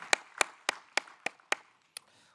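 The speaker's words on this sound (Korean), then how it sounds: "하나님께 영광의 박수를 올려드립니다" A church congregation gives applause during a Wednesday service: seven sharp, evenly spaced claps ring out clearly in a roughly quarter-second rhythm, the last one arriving after a short pause, with no voices over them.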